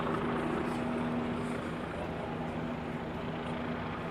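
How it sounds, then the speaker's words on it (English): An NYPD helicopter circles over Midtown Manhattan at night, its steady low rotor drone filling the air continuously alongside distant city traffic rumble. "Looks like we got an NYPD helicopter circling Deutsche Bank Tower."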